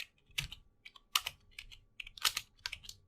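Keys clatter on a computer keyboard in short irregular bursts of clicks, close and fairly quiet, with brief pauses between flurries and no talking.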